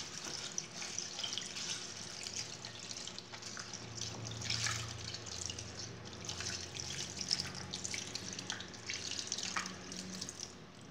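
Moong dal being rinsed under a running kitchen tap, a steady close splashing water stream with small bursts and dripping throughout, no talking.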